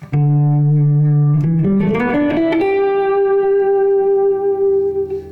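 Electric guitar played through a DigiTech Polara stereo reverb pedal on its room setting: a sustained low note, then a quick run of rising notes settling on a held higher tone, each ringing out with a short roomy tail, loud and alone.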